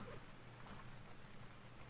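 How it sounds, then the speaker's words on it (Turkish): Steady rain hisses throughout in the survival game Stranded Deep, a dense, even wash of falling water with no break, fairly faint and without voices. "Yağmur bitsin artık ya."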